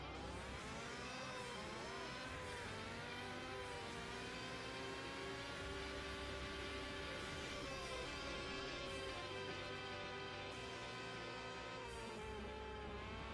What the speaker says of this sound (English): My car honestly sounds like it's gonna explode